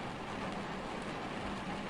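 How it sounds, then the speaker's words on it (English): Steady, dense rain from a realistic rain mod in the American Truck Simulator game, a continuous broadband patter holding even and fairly loud throughout, with no voices. "But I like the more realistic rain."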